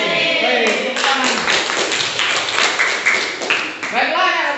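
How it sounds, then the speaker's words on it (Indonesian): Students in a classroom clap their hands together in a loose burst of applause, with voices and chatter mixed through it and a teacher's voice coming in near the end. "Baik, tepuk tangan."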